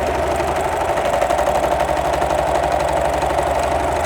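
A Husqvarna Husky Lock serger stitches a pillowcase seam with a fast, steady mechanical whirr, close and continuous throughout with no pauses.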